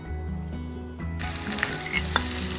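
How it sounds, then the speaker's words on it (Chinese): Marinated diced chicken sizzling in hot oil, a steady close frying hiss that flares louder partway through, with low hum and a few sharp utensil clicks. "昨天腌过的鸡丁，拿出来过下油，只要看到变色，立刻盛出来"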